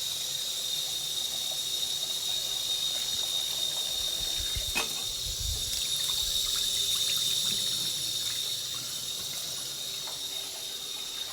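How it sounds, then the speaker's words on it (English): Cooked pasta rinsed under cold running water in a kitchen sink, a steady close hiss of tap water pouring without pause, with a brief clatter of the noodles shifting midway. "I'm going to rinse this under some cold water for a minute"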